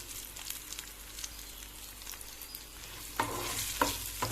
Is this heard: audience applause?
no